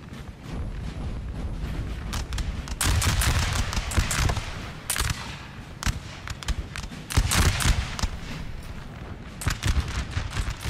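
Distant booms and volleys from a Napoleonic battle in Napoleon: Total War, with artillery and musket fire rolling in repeated waves over a continuous battlefield din.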